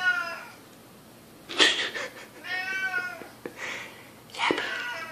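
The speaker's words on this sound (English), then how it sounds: "Is that my yappy cat?" A pet cat meows repeatedly in long, drawn-out yowls with short gaps between them, fairly close and clear in a quiet indoor room.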